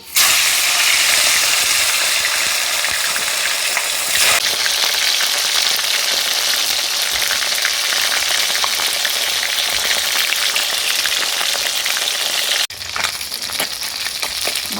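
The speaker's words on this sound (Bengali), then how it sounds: "এবার আমি মাছগুলোকে ভেজে নিচ্ছি।" Fish frying in mustard oil in a wok, a loud, steady sizzle and hiss that fills the whole stretch, briefly dipping near the end before carrying on.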